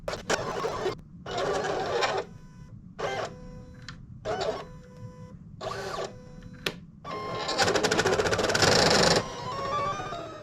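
Silhouette Cameo 4 vinyl cutter slicing a thin record pad for a Seeburg 1000, a series of short mechanical whirring bursts separated by pauses, ending in a longer, busier stretch of motor and carriage noise, close and moderately loud.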